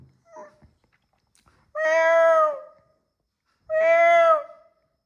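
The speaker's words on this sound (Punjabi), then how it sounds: "ਰੁਕ ਜਾ ਲਿਆਉਂਦਾ ਬਿੱਲੀ ਇੱਕ" A cat meows twice, each call long, loud and drawn out, with a quiet gap between them and no talk over it.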